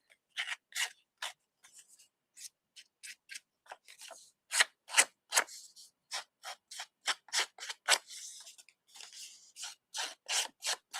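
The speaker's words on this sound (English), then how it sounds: "I am also going to use my scissors to just go ahead and distress this to go with the outside." Scissors snipping and rasping along paper edges to distress them for a card project, a rapid series of short, crisp cuts and scrapes close up, with no voices.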